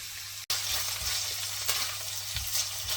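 Chopped garlic and ginger sizzle loudly in hot oil in a pan while keema samosa filling is made. A steady hiss runs throughout, with a short break near the start and a few stirring bumps.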